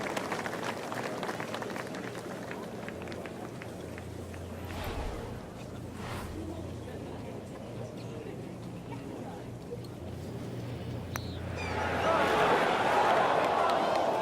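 Crowd applause breaks out for a ten-foot eagle putt in the golf video game EA Sports Rory McIlroy PGA Tour, swelling loudly near the end after a stretch of low ambient murmur.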